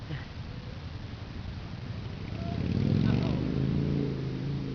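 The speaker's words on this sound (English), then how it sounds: "that motorcycle's scaring me" A motorcycle engine rumbles nearby, its low growl swelling louder midway as it revs, with a voice talking over it.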